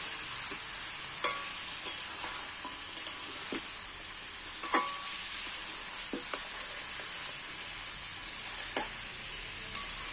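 Chicken with garlic and green chillies sizzles in a pan, a steady fry hiss broken by intermittent scrapes and knocks of stirring.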